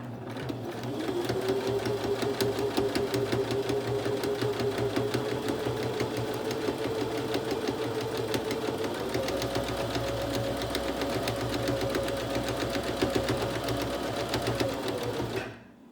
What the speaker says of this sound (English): this is where we're going to stitch down that little opening that we had.